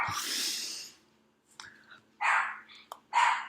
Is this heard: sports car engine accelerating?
no